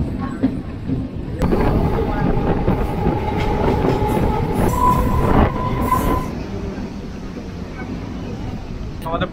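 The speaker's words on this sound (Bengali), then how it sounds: "ট্রেনটা এখন অন্য লাইনে চলে আছে টোটাল" Sealdah to Hasnabad local train running on the line towards Dum Dum Cantonment: a loud, steady rumble and clatter of the carriage, with a sustained wheel-squeal tone through the middle stretch.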